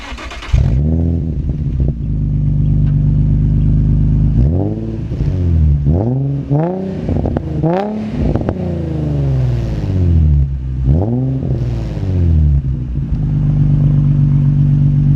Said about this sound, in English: I'm gonna go ahead and start it up and rev it for you guys a few times.